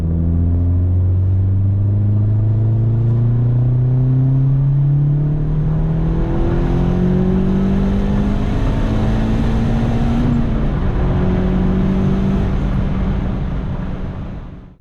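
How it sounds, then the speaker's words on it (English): A car engine at wide open throttle in third or fourth gear pulls steadily all the way to 7000 RPM, its loud rising drone climbing in pitch for a long sustained run before easing off at the end, with no voices. "get into 3rd or 4th gear and mash that pedal and hold it there until you reach"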